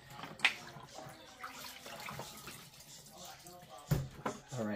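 Turkey brine from a Kinder's butcher's brine kit pouring out of its bag, an irregular splashing and gurgling of liquid with a few louder spills, heard under a person talking.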